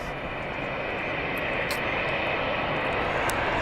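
Jet airliner at Manchester Airport with winglets, pushing back for departure to Lanzarote, its engines giving a loud continuous broadband roar and whine that stays steady and near, with no talking.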